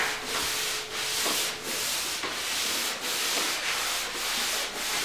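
Hand sanding of a wooden kayak hull with a sandpaper board, sounding as steady rhythmic rubbing strokes, about one per second, close and alone with no talk.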